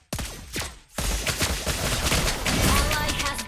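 Rapid gunfire from Mobile Legends crackles in dense bursts, with a short gap after the opening shots before a sustained fusillade runs loud to the end.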